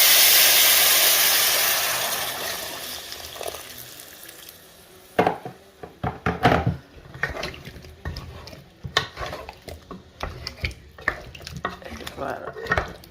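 Tomatoes frying in a pan for soup, a sizzling hiss that fades out, followed by scattered clatter and scraping of a utensil against the pan.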